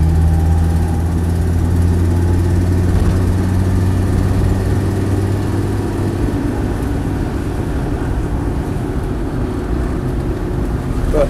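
A Land Rover Defender 90 TD5 County Station Wagon's diesel engine drones steadily from inside the moving vehicle, a constant low hum with a smooth, even tone and no talk.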